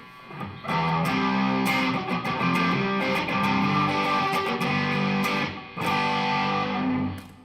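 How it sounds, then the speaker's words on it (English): A loud, heavily distorted electric guitar plays sustained chords with a gritty, fuzzy tone and brief pauses between strums. "The first most used effect is called distortion."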